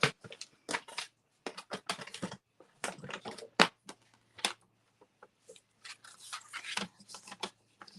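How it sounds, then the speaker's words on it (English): A paper trimmer slicing sheets of shimmer paper during a home craft session, giving a series of crisp, sharp snips and scraping strokes in irregular bursts, fairly close and clear, with no voices. "Let's bring our trimmer and cut some paper."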